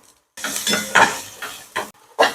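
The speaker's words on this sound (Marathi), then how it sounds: "आता याच्यामध्ये मी कांदा घालून घेते" Onion dropped into hot oil with a ground coconut-garlic paste for egg curry, stirred in several short bursts of sizzling and pan scraping with brief pauses between, close and fairly loud.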